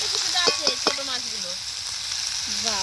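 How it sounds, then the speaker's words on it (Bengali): Fish frying in a pan with a loud, steady sizzle throughout, a few brief tonal squeaks near the start and again at the end. "বাবা কত মাছ আজকে কতক্ষণ ধরে ভাজো বল দেখি।"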